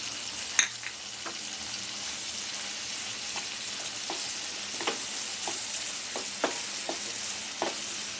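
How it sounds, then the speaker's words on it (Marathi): Ginger garlic paste sizzles in a pan at a low, steady hiss, punctuated by a dozen or so sharp spoon taps and scrapes of stirring, close and fairly quiet with no talking. "आता आपल्याला आलं लसूण पेस्ट टाकायची आहे."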